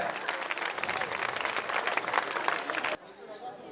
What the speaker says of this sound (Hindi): एक बार मैं पूरी एल्यूमिनी से बोलूंगा कि जोरदार तालियों से सर का स्वागत किया जाए